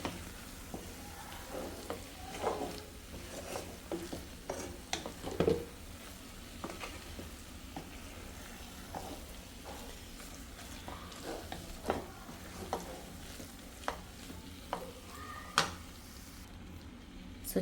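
Chicken curry with chilli powder fries in a pan with a soft, continuous sizzle under occasional scraping and tapping from a stirring spoon, close and quiet.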